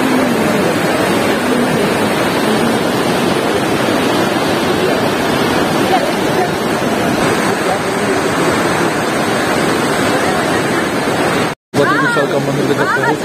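Hot spring water at Badrinath gushes in a loud, steady broadband roar, close and continuous, with crowd chatter blended into the rush and a brief dropout near the end.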